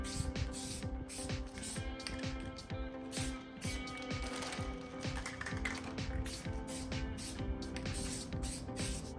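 Plasti Dip aerosol being sprayed onto a Tesla Model 3 chrome emblem, short repeated hissing bursts in quick succession, near and fairly quiet, with faint mechanical clicks between sprays.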